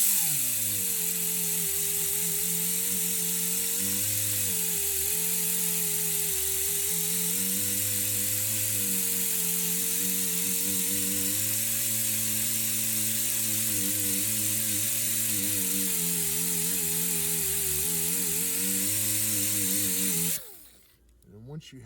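A power polisher with coarse red abrasive grit whines steadily with a wavering pitch for about twenty seconds, close and continuous, then cuts off abruptly near the end.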